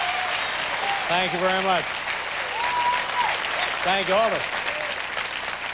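A television studio audience applauds loudly and continuously throughout, a dense steady clatter of clapping under someone speaking at a late-night talk show.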